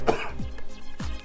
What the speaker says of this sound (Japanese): ちょっと咳払いさせてもらいました